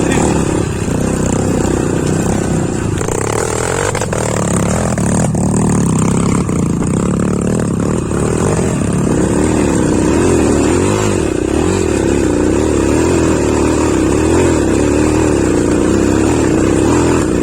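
A motorcycle engine roars loudly and steadily close by on a mountain ridge trail, revving and rising in pitch, with muffled voices partly underneath.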